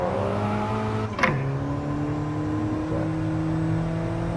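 A race car engine on the Bathurst circuit holds a steady drone, dips sharply at a downshift, then settles into a rising, sustained pitch as it revs back up, close and loud with no talking.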